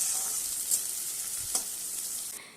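Bitter gourd pieces fry in oil over a medium flame and are stirred until reddish: a steady close sizzling hiss broken by a few sharp spatula scrapes, with no talking.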